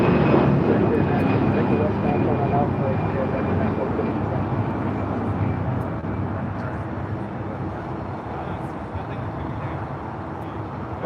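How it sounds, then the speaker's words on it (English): A Boeing 787-10 Dreamliner jet at LAX gives a broad engine roar that slowly fades, with a faint steady whine running through it and people talking over the noise. "787-10 Dreamliner"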